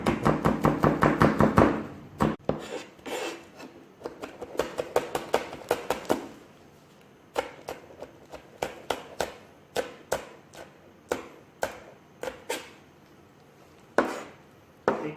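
A knife slices green chillies on a cutting board in quick, sharp taps, a fast flurry at first, then slower irregular chops, close and fairly quiet with no talking.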